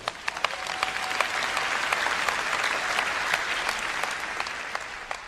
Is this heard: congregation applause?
yes